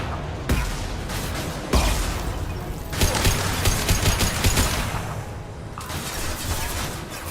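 Sustained sniper rifle gunfire in the video game Mass Effect 2, a dense, loud barrage of cracking shots and impacts that shifts in intensity, with no voices over it.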